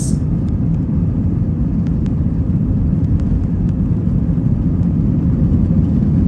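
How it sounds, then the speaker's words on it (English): Passenger jet taking off on a flight from Abu Dhabi to Azerbaijan, heard from inside the cabin as a loud, steady, deep roaring rumble that holds without letup and has no talking over it. "Yay, the plane takes off."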